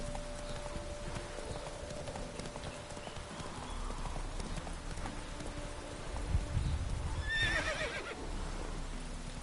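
Roach, the horse in The Witcher 3, gallops with a steady clip-clop of hooves, then gives a sharp, whinnying neigh near the end over faint ambient game sounds.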